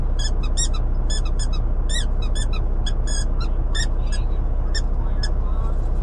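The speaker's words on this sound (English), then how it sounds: "having fun with his squeaky toy this morning." A dog chews a squeaky toy inside a semi-truck cab, giving about fifteen sharp, high squeaks in quick bursts over a steady, loud low engine rumble.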